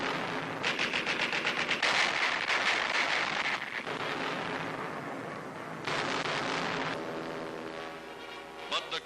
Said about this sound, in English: Pom-poms, anti-aircraft guns blaze into action.